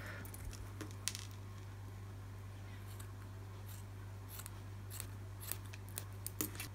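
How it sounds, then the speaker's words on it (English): Scissors trim the back of a small dog made from wool yarn, with a series of crisp, close snips spaced irregularly over a quiet background. "I like to trim it just a wee bit shorter at the back."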